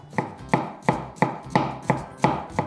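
A knife thinly slices onion on a cutting board in eight even, crisp chops about a third of a second apart, close and clear with no voices.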